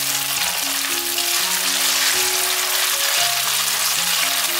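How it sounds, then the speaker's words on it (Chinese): Dried tofu pieces pan-fry slowly in oil with a continuous, even crackling sizzle. A steady pitched hum runs underneath. "再让它慢慢煎一下"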